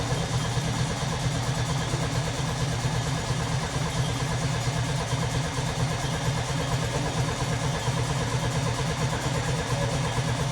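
A 1980s Yugo hatchback engine with no exhaust system fitted, cranking and running with a dense, steady, loud mechanical roar that holds without a break.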